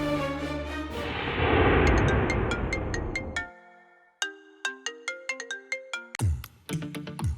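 A mobile phone ringtone plays loudly on its own: a swelling chime melody, then a run of bright plucked notes and another burst of tones.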